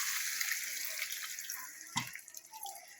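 Water pours steadily into a pan of eggplant and dried fish curry being cooked, a bright continuous splashing stream with a small clunk partway through before the flow thins out.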